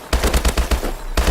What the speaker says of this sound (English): it does have the initial 4-round burst that is 4 bullets that fire faster